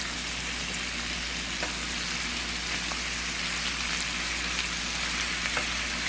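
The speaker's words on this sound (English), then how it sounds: "we're just going to let this saute and cook up in here" Steak fajita meat sautés in a pan with a steady, close sizzle and crackle, a constant hiss broken by a few small pops, with no talking.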